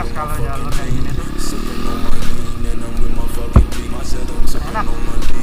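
A trail motorcycle engine revs on the throttle along a forest trail, a close, loud, rough drone that rises and falls. A person talks over it, with some clattering near the middle.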